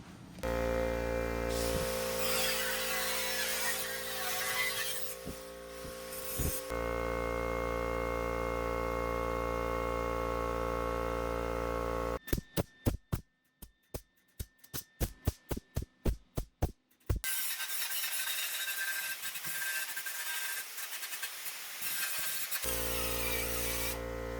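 Metal on the valance of a 1966 Triumph GT6 is ground down: long stretches of harsh, steady grinding noise, interrupted midway by a run of rapid sharp bursts, then a return to continuous grinding, all close and loud, with no speech.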